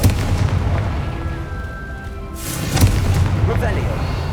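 Confringo fire spell explosion in the video game Hogwarts Legacy, a burst of booming blasts with a sharp crackling impact midway, loud and close over game sounds and a voice.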